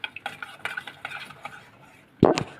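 Rice flour mixture stirred continuously in a pot to keep lumps from forming, giving a run of quick light scraping strokes, then a pause and one louder clatter of the spoon against the pot.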